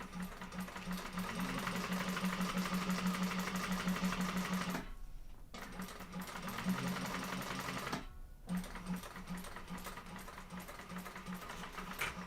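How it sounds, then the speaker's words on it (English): A sewing machine topstitches through fabric, its steady rapid needle rhythm running continuously, close and even, stopping briefly twice before resuming. "So I'm going to go ahead and top stitch through there."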